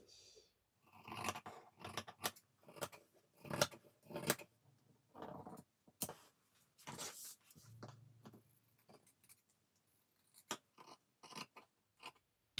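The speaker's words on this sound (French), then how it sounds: "ciseaux pour tissu et uniquement ciseaux pour tissu" Fabric scissors snip through cloth while a headband with a bow is being cut out, giving a run of short crisp cutting bursts in irregular rhythm, close and fairly quiet, with no talking.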